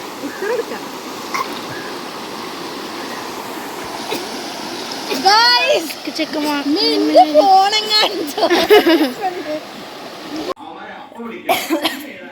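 Water splashes and churns nearby while children shout and chatter, with a cough and throat clearing breaking through the noisy play.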